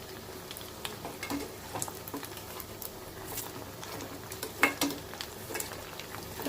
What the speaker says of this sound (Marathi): आता हे पकोडे आपण मीडियम टू लो फ्लेमवरच शिजवून घेणार आहोत फ्राय करून घेणार आहोत